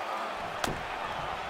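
A wrestler's face is slammed down onto the mat in WWE 2K23, landing as a single sharp, heavy impact thud over a steady arena crowd roar.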